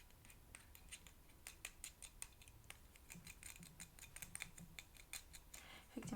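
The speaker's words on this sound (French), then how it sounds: "Ce sont des ciseaux, effectivement, ce sont des ciseaux." Close, quiet ASMR handling of scissors with metal blades and plastic handles, a scattered series of crisp clicks and snips with soft rustling between them and no talk.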